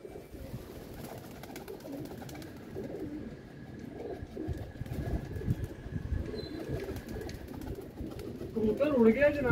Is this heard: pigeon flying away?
yes